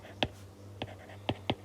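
Four short pen scratches on paper at uneven intervals, faint and close, over a low steady hum.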